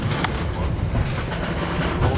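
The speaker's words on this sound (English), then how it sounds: "There's another train." A train passes on the Yarra Valley railway with a steady, loud rolling rumble and rattle of wheels and carriages, continuous and close throughout.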